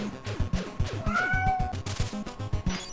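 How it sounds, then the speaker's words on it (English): A cat meows in the background, drawn-out and plaintive, over a busy Teenage Mutant Ninja Turtles game soundtrack with rhythmic low music. "it's my cat meowing in the background."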